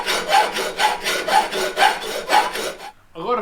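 Steady rhythmic strokes of a hand file on a small metal roll cage gusset for a 1960s Mini, about a dozen even rasping passes, loud and close, with no talking.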